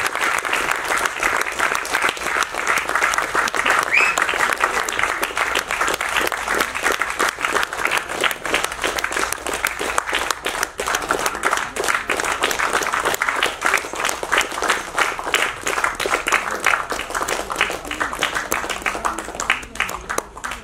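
A large audience claps continuously for about twenty seconds at an event honoring charity volunteers, steady and dense with crowd murmur underneath and no break in the sound.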